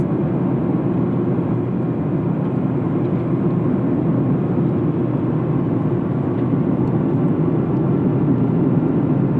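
A car driven through a series of turns gives a steady, loud, low engine drone that runs unbroken from start to finish, with no voices.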